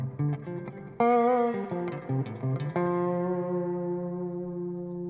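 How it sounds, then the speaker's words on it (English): Distorted electric guitar played through a Neuro Hub effects setup, bright chords and notes ringing loud and alone, then a sustained chord decaying over the final seconds. "the only thing that's coming through is this little bit of distortion amount right there."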